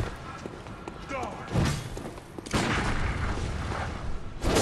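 Gunfire in the Bloodborne video game, several heavy booming shots and thuds at irregular intervals amid game ambience, with a person talking over them.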